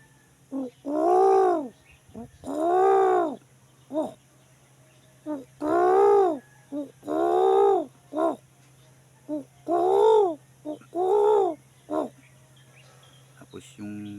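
Birds call from trees close to houses, including a pigeon: a series of about ten hollow, rounded hooting coos, evenly spaced and fairly loud, each swelling and falling, over a faint steady hum.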